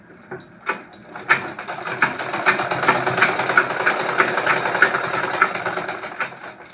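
A sewing machine stitches the seam of a palazzo with a rapid, rhythmic mechanical clatter that starts with a few hesitant pulses and then settles into a steady close-up run.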